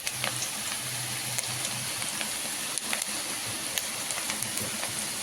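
Okra pieces fry crisp in hot oil for a Kurkure-style bhindi fry, giving a steady, close sizzle with faint crackles and small pops throughout.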